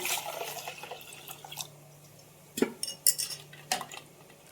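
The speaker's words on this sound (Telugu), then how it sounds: "ఎగ్స్లో చల్లటి వాటర్ పోసుకుంటున్నాను" Cold water poured over freshly boiled eggs in a metal pot, with clinks of eggs and utensils against the pot and splashing pours in short bursts, close and moderately loud with no talking.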